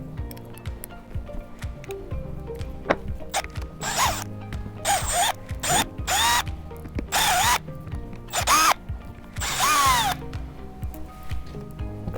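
A power drill backs out screws from the motor of a Companion mobility device tire, several loud whirring bursts of a few seconds each over a steady low hum, close by.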